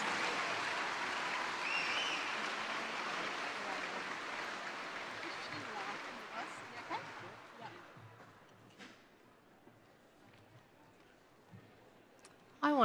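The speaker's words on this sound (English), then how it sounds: "Big round of applause, ladies and gentlemen." A crowd at the 2026 Hutt Valley Sports Awards claps in a broad, sustained round of applause that gradually thins and fades, with voices talking over it toward the end.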